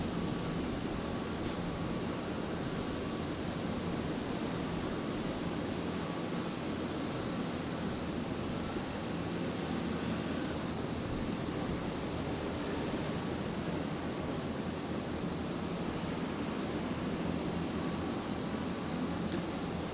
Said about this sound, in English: we'll catch the arriving Jetstar. Jetstar 824 coming in from Sydney